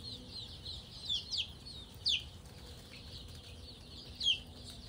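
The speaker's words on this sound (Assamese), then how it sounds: "এখিনি পোৱা লোকেল মুৰ্গী পোৱালি হয়" Local chicken chicks on a farm cheep in short, high-pitched peeps, several scattered calls over a soft background murmur, fairly faint with no talking.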